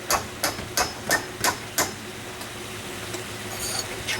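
Six sharp hammer blows ring out on the hinge of a sagging exterior swinging back door, evenly spaced and close, then a faint ticking and steady background hum.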